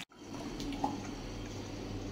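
Tap water runs steadily into a container at a closed bouldering gym, a continuous rushing hiss that fills the whole moment at close range with no voices.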